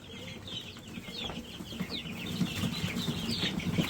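Broiler chickens cluck and shuffle close by on moving day, with soft overlapping clucks, chirps and occasional wing rustling building gradually louder.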